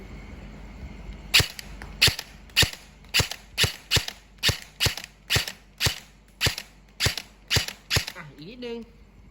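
An E&C 815 Gen2 toy gel blaster is test fired, about fourteen sharp snapping shots in a steady, fairly fast rhythm, close and crisp, with a brief mechanical whir at the end.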